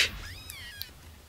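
A cartoon cat meows and yowls in a short, fairly loud burst over a low background rumble, with a thin high-pitched cry sliding up and down through the middle of the sound.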